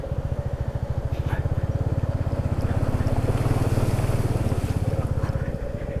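A motorcycle rides through a stream at a water crossing in the Spiti Valley mountains, its engine thumping in a fast, steady pulse with rushing, splashing water over it, loud and close, with no talk.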